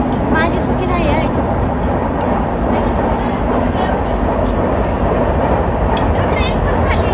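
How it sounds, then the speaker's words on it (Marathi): A train passes below a bridge with a loud, continuous rumble and clatter that fills the whole stretch at a steady level, with a faint, muffled hum of voices underneath. "ट्रेन पण खाली मधून ट्रेन चालली"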